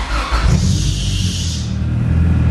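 A 1994 Acura Integra GSR engine turns over and catches, settling into a loud close idle rumble, with a high squeal from a loose belt during the start that fades as the engine runs on alone.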